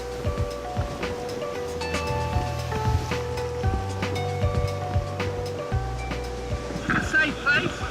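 Sea waves wash against the rocky South Cornwall coastline beneath a steady, close roar of water and wind, with faint splashing and tonal hums overlaid.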